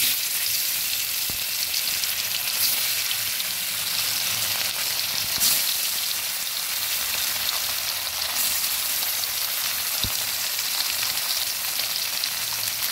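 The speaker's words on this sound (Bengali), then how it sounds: "এবার এক এক করে মাছগুলো দিয়ে দিচ্ছি।" Pieces of kanla fish frying in hot oil in a wok make a steady, close, rain-like sizzle that holds level throughout, broken by a few faint knocks and clicks.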